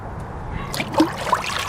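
Molasses pours into a bucket of water while compost tea is being mixed, giving a short, soft trickling slosh up close over about two seconds.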